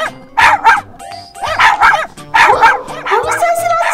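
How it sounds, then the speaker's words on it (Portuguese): A small puppy yips and barks repeatedly in quick bursts, close by, while people talk in the background. "Como é esse latido? Tô ouvindo."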